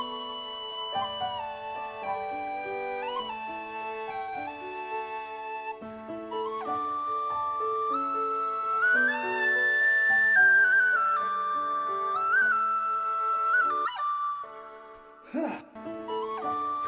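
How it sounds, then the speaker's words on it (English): An amateur player performs on a tin whistle in a small recording studio's vocal booth, with a sustained, clear melodic line of held and sliding notes over steady accompaniment, close and prominent throughout. "Not bad for a amateur tin whistle player."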